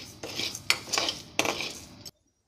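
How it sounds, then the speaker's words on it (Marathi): A spoon scrapes and clinks against a pan as sabudana and bhagar are dry roasted: a few sharp, close metallic knocks over a soft rustle, with no talk, ending abruptly. "आता भगर पण त्याच्यातच भाजून घेऊ 2-3 मिनिट."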